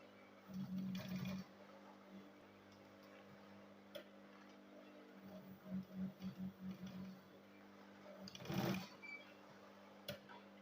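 Sewing machine stitching the fabric of a three-in-one school bag, heard in a short burst, then a longer run of rapid pulsing stitches, and a brief final burst, with quiet pauses between.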